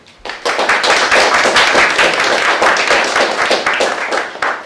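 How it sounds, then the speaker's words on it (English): An audience at a real estate association meeting applauds a guest speaker, an appraiser, with loud, dense, steady clapping that starts abruptly and continues throughout. "So let's give a round of applause for Mr. Norman"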